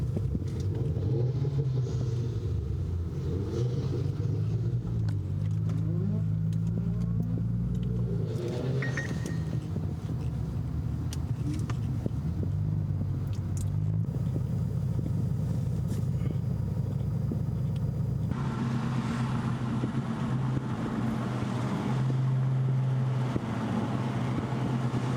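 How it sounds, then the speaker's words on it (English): Cars in a late-night convoy rev their engines, a steady deep rumble with rising and falling throttle swells running throughout, fairly close and continuous, with no talk. "they're revving."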